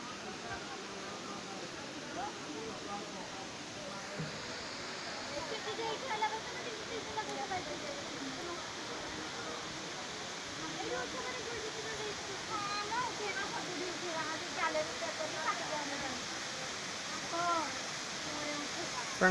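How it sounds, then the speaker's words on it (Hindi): Steady broadband rush of a waterfall near Khuludi temple in Odisha, a continuous dense roar of falling water with faint voices now and then in the background. "पहले चलते हैं झरने के तरफ, झरना दिखा देते हैं"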